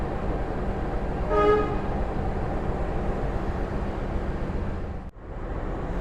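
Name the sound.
Wijayakusuma train locomotive moving at Surabaya Gubeng station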